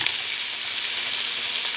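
Onions frying in hot cooking oil for fish biryani, a steady, even hiss of sizzling close by that continues without a break, with no voices.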